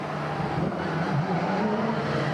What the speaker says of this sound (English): We're going to wait for these cars to go past